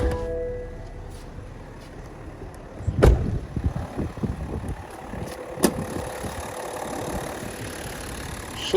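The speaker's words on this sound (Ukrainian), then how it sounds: "Двигун працює як часи. Дуже і дуже тихо працює." A 2021 BMW X7 engine idles under an open hood with a low, steady, quiet hum close by, broken by a couple of sharp clunks.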